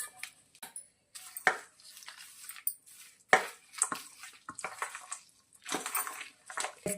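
Hot tempering being stirred through gongura (sorrel leaf) rice with a spoon, giving a run of close, intermittent scraping and clinking strikes against the vessel with soft moist rustles between them, no talk.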